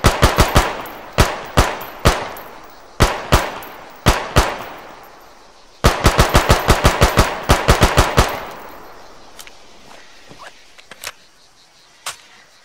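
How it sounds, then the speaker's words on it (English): An M16 rifle with a carry handle in the RHS game mod fires sharp, loud single shots spaced about half a second apart, then tight three-round bursts, followed by a few fainter isolated cracks near the end. "That was the burst. So that was just the basic M16."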